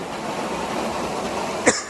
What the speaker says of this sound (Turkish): toz beni çok öksürtüyor ya